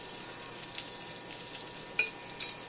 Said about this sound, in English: I have in my pan 2 tablespoons of butter melting slowly.